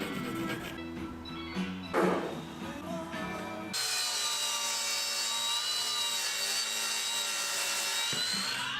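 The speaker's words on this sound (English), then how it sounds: "followed the same process to cut the short pieces of the frame to length" A mitre saw cuts short oak picture-frame pieces to length: a few seconds of handling and rubbing noises, then the blade whines steadily at close range until the end, no talking.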